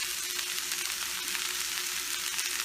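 Green French beans fry in an oiled pan with a steady, moderately quiet crackling sizzle that holds evenly throughout, with no talking.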